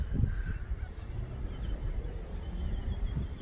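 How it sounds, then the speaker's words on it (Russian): Geese honk intermittently alongside swans in a park in Sydney over a soft outdoor background, the calls moderately close and irregular. "Лебеди и гуси."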